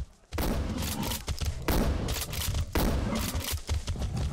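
Shotgun blasts aimed at charging boars in S.T.A.L.K.E.R. Gamma, with loud, full-spectrum bangs landing near 0.3, 1.7 and 2.7 seconds and a rough, rumbling game soundscape continuing between them, no voices.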